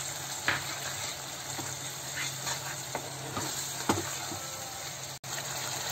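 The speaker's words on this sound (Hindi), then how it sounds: "धनिया पाउडर मसाला को अच्छी तरह से भून लेंगे" Coriander powder and red chili powder masala frying in oil for a dum aloo potato curry, a steady close sizzle with several scraping stirs of a spoon across the pan, no voices.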